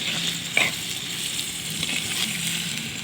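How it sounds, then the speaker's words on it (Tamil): Tomatoes sauté in a clay pot while dried fish curry is prepared, with a steady close sizzle and soft stirring scrapes, no talk. "தக்காளி போட்டு நல்லா வதங்கட்டும்"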